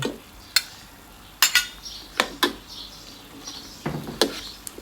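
Pork ribs with southern Thai curry paste being stir-fried in a pan, heard as a soft background sizzle broken by intermittent scrapes and clinks of a utensil against the metal.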